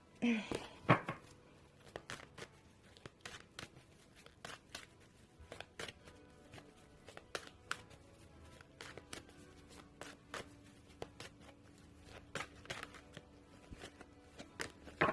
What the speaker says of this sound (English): I'm just shuffling this for a new reading